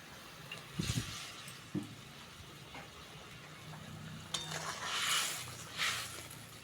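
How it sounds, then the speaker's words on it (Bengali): Salted, turmeric-coated hilsa pieces dropped into a pot of boiling gravy: a few soft splashes and clinks over a quiet bubbling background. "ঝোল ফুটে গেছে লবণ হলুদ মাখানো মাছটা দিয়ে দেবো"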